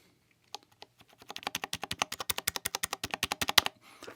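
Rapid typing on a Vissles V84 budget mechanical keyboard with VSII switches and rattly stabilizers, a close, loud run of crisp clacking keystrokes that speeds into a steady dense rhythm before stopping.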